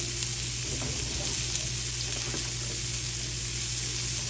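Minced garlic frying in a pan gives a constant close sizzle with a steady hum beneath and light, occasional scraping of a utensil.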